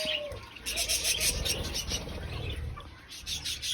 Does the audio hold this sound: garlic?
no